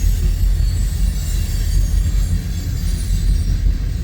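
A Union Pacific coal train rolls past with a steady, loud low rumble of railcars and wheels on track, a continuous close drone with faint wheel squeal.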